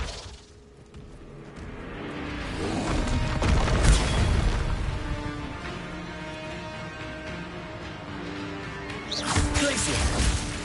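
Flipendo spell cast in the Hogwarts Legacy video game, a loud whooshing burst with booming impacts and crashes layered over continuous game effects and a dense battle din, swelling again near the end.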